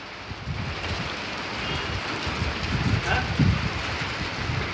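Hail falls in Tabuk, Saudi Arabia, producing a continuous dense patter of pellets striking surfaces, with wind noise across the microphone and a few louder nearby impacts.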